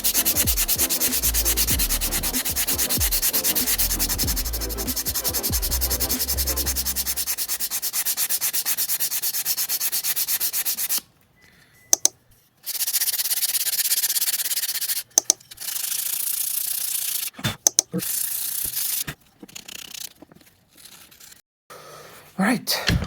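An electric sander works scrap plywood for an oven rack puller, a steady loud droning rasp for the first eleven seconds, followed by quieter intermittent sanding and rubbing strokes with brief pauses.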